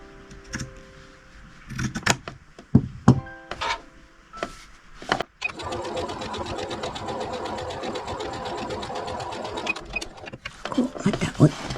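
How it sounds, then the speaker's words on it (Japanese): Close, faint fabric handling and scattered clicks give way to a sewing machine running continuously for about five seconds as it stitches log cabin patchwork fabric, with no voices heard. "ここを折ってこの端からここまで縫っていきます"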